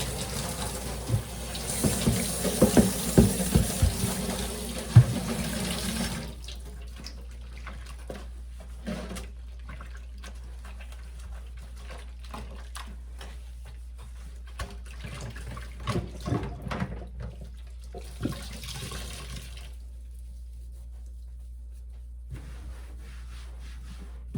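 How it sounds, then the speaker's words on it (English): Tap water runs into a stoppered sink after bleach has been poured in, a steady loud rush for about six seconds that then drops to faint trickles and light handling sounds. "Add some water."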